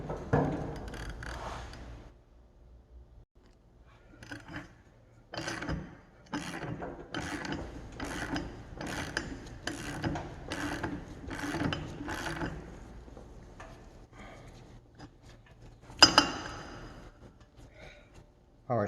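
Ratchet wrench clicking in quick rhythmic bursts while tightening a fitting during a power steering system service, close and fairly loud, with a steady train of clicks in the middle and short pauses between strokes.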